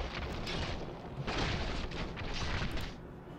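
A big explosion destroying the home base in the Heroes of the Storm video game, a loud sustained roar of booming blasts and rumbling debris that swells in waves, with no talking.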